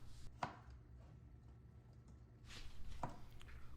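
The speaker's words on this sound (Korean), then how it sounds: "그 머리 부분 마늘 꼬다리부터 좀 따주세요." A knife trims the root ends off garlic cloves on a cutting board, giving two sharp, close chops about two and a half seconds apart over a quiet kitchen background.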